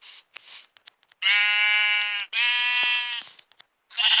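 A sheep in Minecraft bleats as it is struck and killed: two long, loud, buzzing bleats back to back, framed by short clicks and hit sounds, with no talking.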